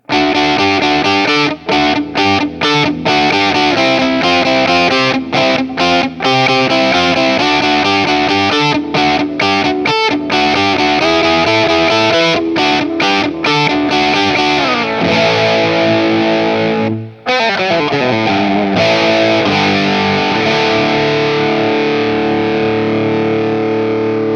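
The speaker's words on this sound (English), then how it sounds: "now let's take a listen to the bridge pickup." A heavily distorted Schecter Fastback II electric guitar on its bridge pickup plays chugging chords and riffs with sharp stops, loud and dense throughout, with a brief pause near the end.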